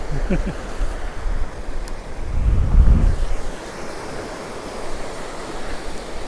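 Strong wind blows on Cromer beach, buffeting the microphone with a heavy low roar that swells in the middle while surf washes in the background.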